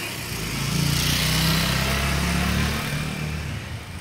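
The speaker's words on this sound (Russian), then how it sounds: "А иду я, и мотоцикл кругом." A motorcycle engine runs nearby on a street in Spain, a steady droning hum that swells and holds, with no talking over it.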